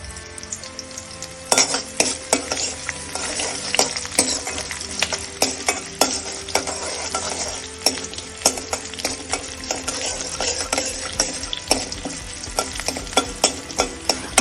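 Onions fry toward golden brown while being stirred, a loud close sizzle broken by frequent sharp clinks and scrapes of a spatula against the pan, with no voices.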